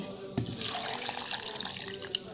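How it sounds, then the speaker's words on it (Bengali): Cold boiled milk pours from a cup into a blender jar for a papaya milkshake, a steady splashing liquid stream running close and unbroken for a couple of seconds, with no talking. "দুই কাপ দুধ আমি জাল দিয়ে ঠান্ডা করে নিয়েছি এবার এটাকে ব্লান্ডার জারে ঢেলে দিচ্ছি"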